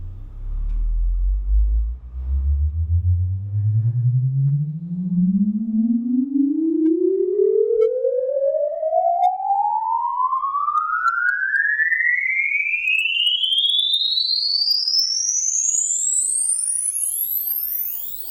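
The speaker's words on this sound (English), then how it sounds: "lowered both by -12 dB so you don't have to hear a loud sine wave" Loud sine-wave test tone sweeping steadily upward from deep bass to a piercing high pitch over about eighteen seconds, heard through an open office door, alone with no talking.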